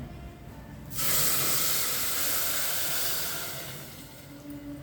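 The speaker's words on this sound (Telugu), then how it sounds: "ఇదిగో నీళ్లు పోస్తున్నా. వేడి నీళ్లు పోయాలి." Hot water poured onto wheat semolina for a sajja appa offering gives a steady, fairly loud hissing rush lasting about three seconds, then it cuts off into quiet.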